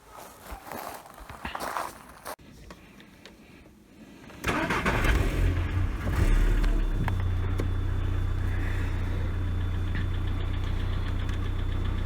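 A car engine cranks and catches at a house yard, then settles into a steady, loud idle with a low drone while warming up, after a few seconds of quiet footsteps and shuffling beforehand.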